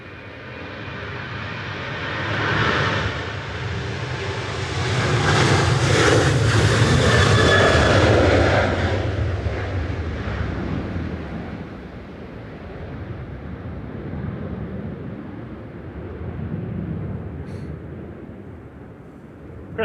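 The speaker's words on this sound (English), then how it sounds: "Right now on the roll to Reus, 737-800, 9HQBE" Boeing 737-800 airliner on its takeoff roll at Manchester Airport, a broad jet engine roar that swells to a loud peak and then recedes into a steady distant rumble.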